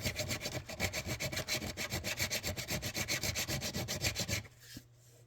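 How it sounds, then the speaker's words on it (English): Steel guitar frets being filed on a fretboard during a Hondo guitar restoration: a steady, close rhythmic rasping of strokes for about four seconds, then it stops abruptly and near silence follows. "filing this steel down. So you can kind of hear the steel."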